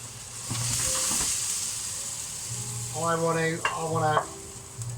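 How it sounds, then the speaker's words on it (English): Beef offcuts, already cooked, frying in a pan for a stew, a steady close sizzle with stirring throughout, while a person talks over part of it. "fry the beef"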